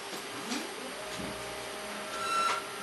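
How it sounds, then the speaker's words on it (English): A stepper motor in a converted dot matrix printer runs with a steady mechanical whir and a thin high squeal from motor resonance. The sound is quiet and close, with no voices. "Now that is happy, apart from the squealing, which is a bit of motor resonance, I think."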